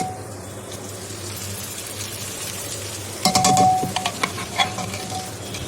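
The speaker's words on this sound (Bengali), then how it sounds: "তড়কাটা এর মধ্যে ঢেলে দিয়েছি" Tempered spices poured into a cooking dish for tadka: a steady background of frying, then a sudden loud burst of hissing sizzle that crackles on and gradually subsides, with no voices.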